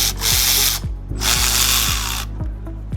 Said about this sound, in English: You want to get your 17 and your 14 to loosen the caliper bolts.